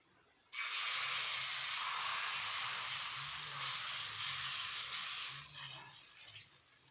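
Hot oil sizzles in a pan while chocolate pitha cooks, a loud steady hiss that bursts in abruptly, holds strong for several seconds, then gradually softens and flickers at the end.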